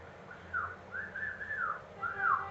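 A male cockatiel whistles several short rising and falling notes in a row, moderately loud against a faint background hum.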